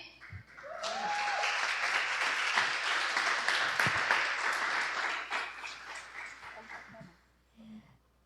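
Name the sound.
applause welcoming the pastor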